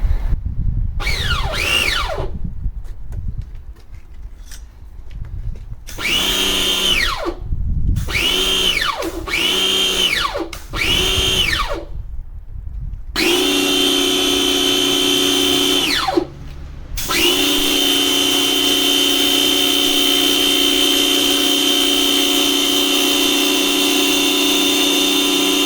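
A freshly repaired pressure washer starts up with a few rising-and-falling bursts, then settles into a loud, steady, high-pitched motor whine that runs continuously for a long stretch, briefly dipping once before resuming.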